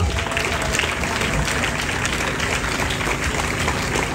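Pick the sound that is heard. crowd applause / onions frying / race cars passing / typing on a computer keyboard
crowd applause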